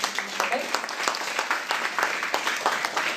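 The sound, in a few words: church congregation applauding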